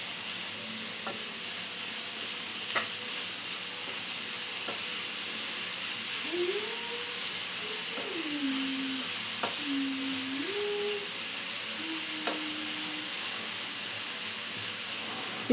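Grated beetroot frying uncovered in a pan, a steady hiss of sizzling throughout with occasional light clicks of stirring, close and alone without speech.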